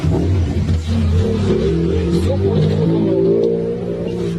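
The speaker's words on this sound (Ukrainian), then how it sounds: "Вот сейчас едет машина. Как она будет проезжать, вот смотрите, двигается автомобиль." A car rolls along a damaged road full of holes, potholes and loose boards, its engine droning and rising as it passes close by, loud and steady over about four seconds with no talking.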